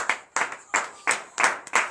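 A congregation at a Beninese morning prayer service claps in acclamation, six loud, sharp bursts landing roughly a third of a second apart in a quick rhythmic pattern, close by and with no talk over it.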